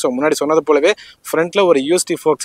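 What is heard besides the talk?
None of the usual background noises is heard.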